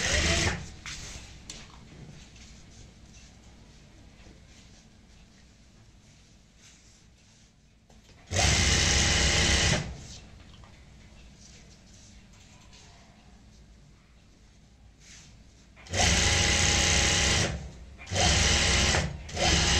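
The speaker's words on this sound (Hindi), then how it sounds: "ऊपर से सिलाई लगा देंगे" A sewing machine topstitches a zipper handbag in three loud bursts, each a steady buzzing run of about one to two seconds, with quieter gaps between them.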